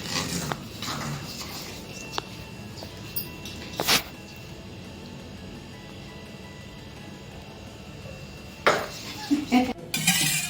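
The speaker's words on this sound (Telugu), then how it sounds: "నేను పాలు పోసి నీట్గా కలుపుకుంటున్నాను" Oreo biscuit cream is stirred with poured milk in a bowl, making soft continuous scraping with a few sharp spoon clinks against the dish at the start, middle and end.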